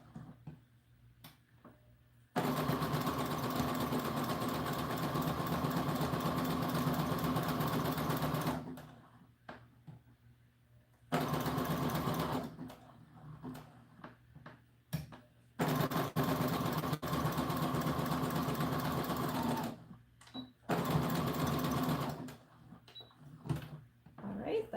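A sewing machine edges fabric for an American Girl doll dress in several long, steady whirring runs separated by short pauses, close and loud, with occasional quiet clicks between bursts.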